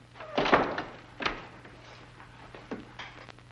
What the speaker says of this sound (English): Lock the door again.